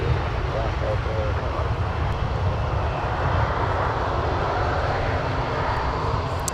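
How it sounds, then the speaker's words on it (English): Air France Boeing 777 airliner taxiing past at an airport, a loud steady jet engine roar holding throughout with a faint tonal whine. "The Air France 777 passing in front of our United aircraft going to Paris"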